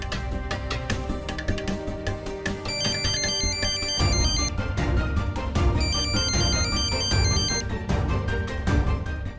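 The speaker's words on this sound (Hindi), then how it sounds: "तुम्हारा फोन इतना टनटना रहा है" A mobile phone ringtone plays a bright, repeating electronic melody in a family home. It is steady and fairly loud, cycling through its tune over about nine seconds, with no talking.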